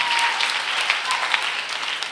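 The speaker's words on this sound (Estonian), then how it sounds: "Aga Shuri on vähemalt punnitamise eest aplausi väärt, nii et tehtme Shurile suur aplaus." An audience at a youth talent contest applauds a contestant, dense steady clapping from a crowd, loud and sustained for a couple of seconds.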